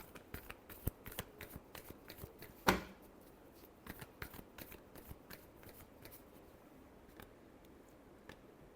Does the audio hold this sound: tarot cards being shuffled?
yes